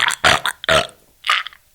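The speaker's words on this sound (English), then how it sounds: "You're forcing me to burp." A man burps three times in quick succession on purpose, the belches loud, close and raspy, with the last one coming out shorter and more strained after a pause.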